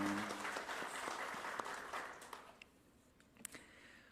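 A church congregation gives a round of applause that fades from a full, steady clatter to a few scattered claps, heard faintly from across the sanctuary.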